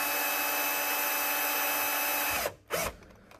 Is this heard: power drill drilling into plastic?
yes